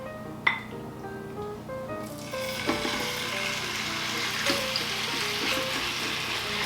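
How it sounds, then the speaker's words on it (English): Chicken pieces hit a hot pan of warm extra virgin olive oil with a clink, then a steady, crackling sizzle builds and holds with small pops, close and moderately loud. "can you hear that sizzle?"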